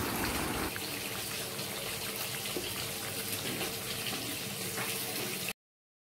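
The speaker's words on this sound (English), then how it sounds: "Add 1 glass of water." A glass of water is poured into a pot of fish curry, giving a steady, close splashing gush that runs almost without a break for about five and a half seconds and then stops abruptly.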